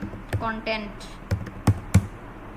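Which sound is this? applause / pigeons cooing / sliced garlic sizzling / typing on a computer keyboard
typing on a computer keyboard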